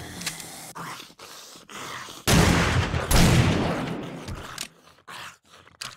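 Gunshots in the survival game 7 Days to Die against a large boar: a loud burst of gunfire and rattling shots in the middle, surrounded by quieter footsteps and scraping.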